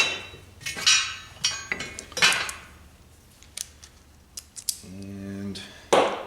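Brass rivets are bucked on a Ford Model A rear brake shoe: sharp metallic taps and clinks come in irregular bursts, with a short buzzing tool pulse near the end.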